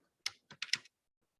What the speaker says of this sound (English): So the clerk's typing away